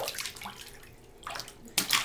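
A child splashes in a bathtub, with soft water sloshing in a few brief bursts between quieter gaps, the last burst the loudest, recorded close by in a small room.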